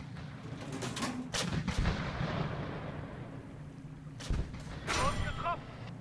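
Tank cannon shots striking a target in a video game: a few heavy, rumbling booms with sharp cracks at mid-loudness over steady low engine drone, with brief chirpy effects after the last hit.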